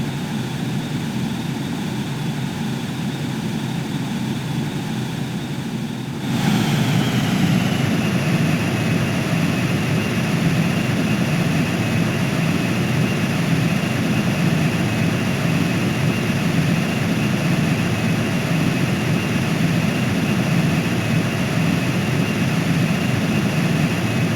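An aircraft in Xenoblade Chronicles X flies in before landing, its engine a steady loud drone that shifts to a deeper, heavier roar partway through and holds to the end.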